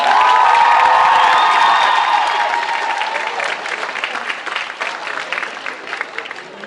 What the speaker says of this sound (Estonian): Aplaus teile!